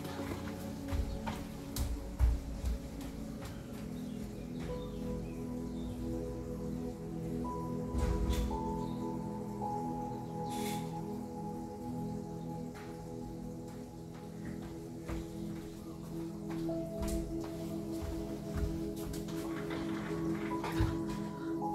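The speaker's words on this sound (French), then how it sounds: "Il pleut." Steady rainfall with scattered drips and taps on surfaces, a soft continuous patter lasting throughout, with faint tonal hums underneath.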